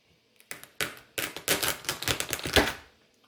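Lobster tails are cut in half, giving a close series of sharp cracking, crunching snaps that come in quick irregular bursts for about two seconds, with no talking.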